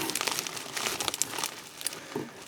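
Sellotape being pulled and peeled from packaging, giving a fairly close run of dry crinkling and crackling with small sharp tearing bursts scattered through.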